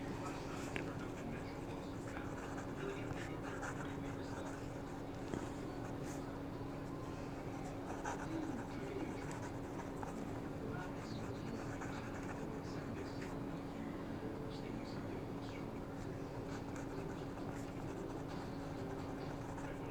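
A fountain pen writes on paper, faint scratching strokes barely rising above a steady low hum and background noise that continue unbroken for the whole stretch.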